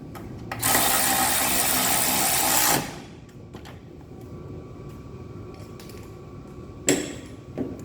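An electric ratchet whirs loudly for about two seconds while working on a Peugeot Expert alternator, then stops, followed by quieter clinks and a short metallic knock near the end.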